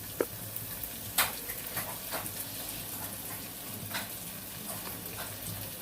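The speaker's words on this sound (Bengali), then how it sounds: "এখন এটা নাড়া দিতে থাকি আর শুটকিটাও নাড়া দিতে থাকি" Dried fish (shutki) frying in a pan with green chilies and salt, stirred with a spatula: a steady soft sizzle with a few scraping knocks of stirring, close and fairly quiet, no voices.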